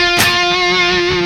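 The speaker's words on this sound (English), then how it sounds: "I've got no noise gate going on, so there is some buzzing and humming going on" An Orange Rockerverb amplifier at high gain with no noise gate gives off a steady electrical buzz and hum, loud and constant with a sustained tonal drone and a brief noisy burst near the start.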